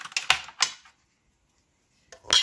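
Basic computer keyboard, swapped in for a mechanical gaming keyboard, clacking in two quick bursts of keystrokes, a pause of silence, then another short burst, close and fairly crisp.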